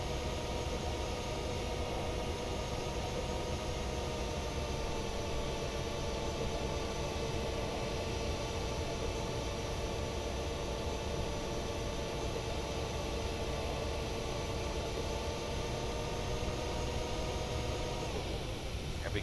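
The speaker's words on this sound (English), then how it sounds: "You can hear the drive motors running, the jack screws that are operating the flaps and slats." Airliner flap and slat drive motors with jack screws running in Flight Simulator 2020, a steady, loud whirring drone over a broad noisy hum that holds level for the whole stretch.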